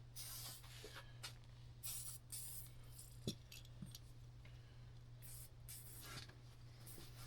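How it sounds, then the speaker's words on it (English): Several short hissing bursts from a white lithium grease spray can on rack carburetors from a 1999 Polaris XCR 800, quiet and close, separated by brief pauses, with light clinks of metal in between. "Little white lithium, I'll spray it off to the side."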